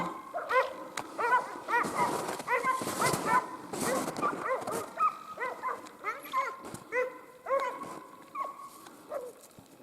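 Dogs yip, bark and whimper in quick, excited bursts near an otter in the taiga, close by and fairly loud, with people's voices mixed in.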